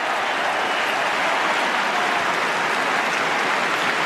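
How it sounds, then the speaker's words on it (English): A stadium crowd at an Australian football match between Fremantle and Sydney applauds in a steady, broad wash of clapping and crowd noise, continuous and fairly loud. "You can hear the applause as the Dockers move it towards right half back."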